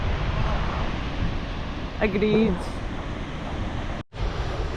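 A classic Icelandic waterfall roars as a steady broadband rush mixed with wind buffeting the microphone, loud and continuous, with a brief spoken word partway through.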